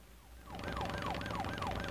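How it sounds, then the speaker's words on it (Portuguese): Motorcycle siren in a motorcycle video game, a wailing up-and-down electronic tone that fades in and then repeats steadily and evenly over a low engine hum. "Aqui tem a sirene da moto"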